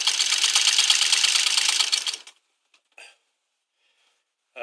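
An old Singer sewing machine stitching in a fast, steady whir for about two seconds, then stopping, followed by a couple of brief mechanical clicks and near silence.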